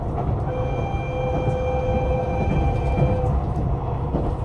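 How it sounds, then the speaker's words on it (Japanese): A train pulls away from Toyotomi Station, a small rural stop on Hokkaido's Soya Line, its steady rumble and rolling wheel noise continuous and close, with faint tonal whines and no speech. "列車は一番後ろの車両のドアが開くことなく発車。"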